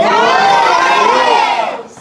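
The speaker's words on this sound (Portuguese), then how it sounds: "Quem achou, dá um grito de glória aí." A church congregation bursts into a loud, sustained collective shout of glory, many voices blending into a dense roar that fades out near the end.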